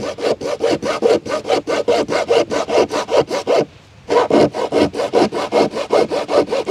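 A hand saw cuts steadily through a hard mù u fruit, with a fast, even back-and-forth rasp that pauses briefly midway and then resumes, loud and close with no talking.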